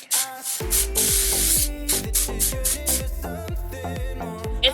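An aerosol deodorant can sprays in short hissing bursts, several quick sprays in a row over music playing in the background.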